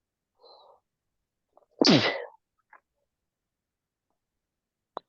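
A single sudden sneeze bursts out on a quiet group video call, short and forceful, with a faint breath before it and a few tiny clicks scattered around it.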